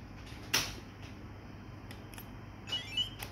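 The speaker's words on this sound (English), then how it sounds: "Oh, with buzzer." A short, sharp beep from an SMDV B120 battery-powered LED flash unit stands out once near the start, followed later by a couple of fainter chirps against a quiet room background.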